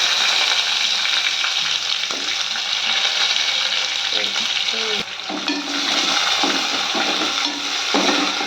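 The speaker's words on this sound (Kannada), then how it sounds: "ಗೋಲ್ಡನ್ ಬ್ರೌನ್ ಬರೋವರೆಗೂ ಹುರ್ಕೋಬೇಕು" Sliced onions fry in hot oil with bay leaf, a spice flower and two cardamom pods, making a loud continuous sizzle up close with scraping stirs and occasional clinks of the spatula against the pan.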